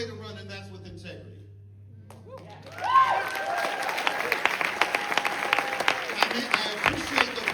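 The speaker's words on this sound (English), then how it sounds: "I appreciate the applause" An audience at a Philadelphia campaign event breaks into applause after a quiet, humming stretch, and steady clapping with some crowd noise carries on to the end.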